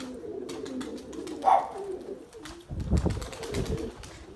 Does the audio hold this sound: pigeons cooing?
yes